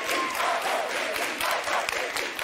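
Studio audience on a Turkish TV talk show applauding the orchestra members of a rock musician, a steady wash of crowd clapping throughout, with no pause and no clear voices.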